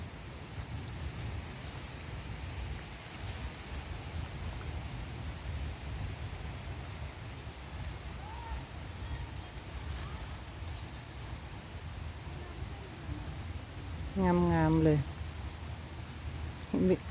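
Rain falls in a steady hiss outdoors during honey mushroom picking, soft and constant throughout, while a person speaks under it and a brief chirping sound appears near the end.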